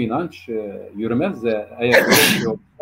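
A man sneezes once, a loud sharp burst close to the microphone, right after a stretch of his own speech in a Turkish political commentary talk; a short pause follows.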